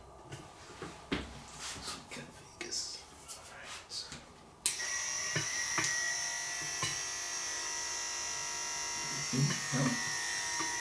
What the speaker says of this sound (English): you could also use a clipper to just quickly go